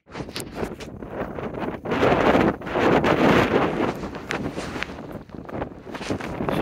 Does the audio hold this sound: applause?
no